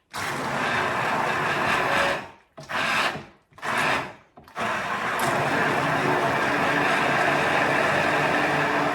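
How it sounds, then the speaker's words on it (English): A loud, harsh immersion blender whirs continuously through solids, cutting out briefly twice before running steadily again to the end. "this is my immersion blender"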